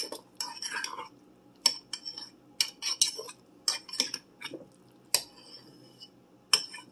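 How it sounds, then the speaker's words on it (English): A spoon clinks and scrapes against a mug while stirring syrup into a mixture for a microwave mug meal, in short irregular bursts of bright metallic taps with quiet gaps between, close up and alone. "Just gonna mix it a little more now that the syrup's in here."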